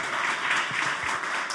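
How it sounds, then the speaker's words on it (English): Conference audience applauding the organizers of a New Deal event, dense, even clapping that fills the room at a steady level with no pauses. "Can we get a round of applause for the New Deal organizers that put this together?"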